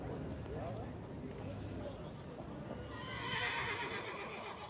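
At an endurance race vet gate, a horse lets out a whinny and hooves clop, rather faint against crowd noise, and a commentator talks over it.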